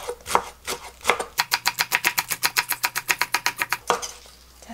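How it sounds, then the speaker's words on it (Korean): Green onion being chopped with a knife on a cutting board, a fast, even run of about twenty crisp close knocks after a few slower cuts. "자, 썰어서 옆에다 준비해 주시고요."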